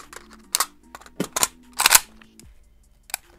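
An AK rifle magazine is pulled from a chest rig on a plate carrier and swapped with a thumb sweep: a quick run of sharp metallic clacks and snaps, close and distinct, with short gaps and no talking.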